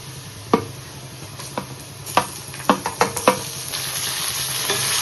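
Onion, spice masala and tomato frying in a pan for a spicy chicken curry, a soft steady sizzle broken by several sharp spoon scrapes and clinks as the mixture is stirred, close and without talk.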